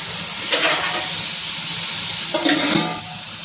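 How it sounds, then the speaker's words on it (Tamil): Long-sliced onions sauté in oil in a pan, a continuous close sizzle broken by a couple of brief stirring scrapes, no voices. "சாரி வெங்காயம் ஆனியன் வந்து வதங்கட்டும்னு வச்சுருக்கேன்"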